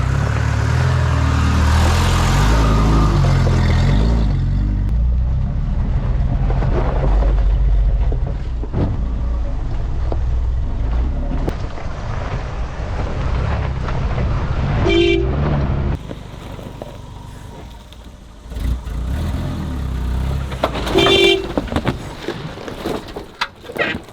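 Old camper van rolling downhill in low range, a loud steady engine drone and road rumble up close that later eases, with occasional clunks and rattles.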